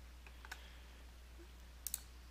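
Mouse clicks on a web page link, a couple of faint, brief taps with a sharper double click near the end, over steady low hum.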